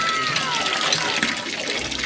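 Water gushing steadily from a repaired hand-pump well on a farm, a continuous broadband splashing rush at close range with no pauses.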